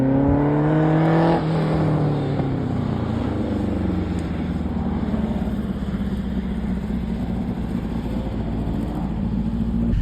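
A custom race car laps a track, its engine revving hard and dropping in pitch through a corner, then settling into a loud, continuous roar with no voices.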